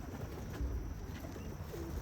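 Pigeons cooing softly at the loft, with a couple of faint low coos over a steady outdoor hiss.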